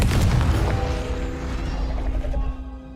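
A Confringo explosion spell in Hogwarts Legacy blasts with a heavy boom at the start, then a rumbling tail that fades over a few seconds.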